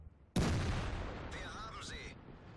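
A tank cannon fires in World of Tanks with one sudden loud blast that decays into a long rumbling tail, followed by a brief metallic ringing ricochet.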